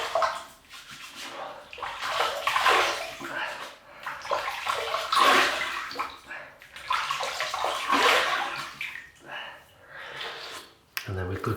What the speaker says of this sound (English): So we'll wet the face. That'll be the pre-shaving,